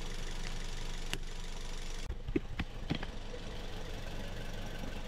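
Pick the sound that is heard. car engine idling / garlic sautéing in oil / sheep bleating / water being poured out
car engine idling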